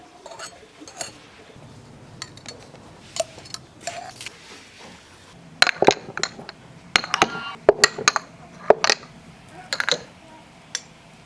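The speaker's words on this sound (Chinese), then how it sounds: "剥净皮的番茄装到干净的瓶子里" Peeled tomatoes and small utensils clink against clean glass jars while homemade tomato preserves are packed, with irregular sharp taps and clinks that grow busier and louder partway through, close by and without talk.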